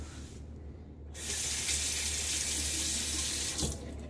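A bathroom tap turns on after a brief quiet moment and water pours steadily into the sink to rinse a shaving razor, close and constant with a small splash near the end, no talk.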